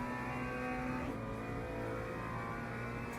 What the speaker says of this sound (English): That's a fast BMW behind me.